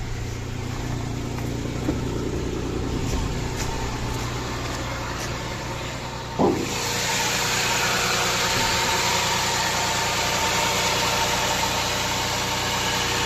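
A VW Touareg 3.6 FSI engine idles with a steady, even hum and low rumble, without backfire pops. One brief click midway, then the idle runs on smoothly, with no talking.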